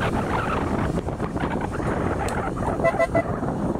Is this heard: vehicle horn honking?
yes